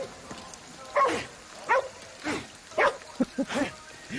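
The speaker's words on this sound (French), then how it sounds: "Ah oui, il y a encore un chien par ici." A dog barking in Ghostwire Tokyo, a series of short, moderately loud barks at irregular intervals over a quiet game ambience, with a faint rain-like hiss.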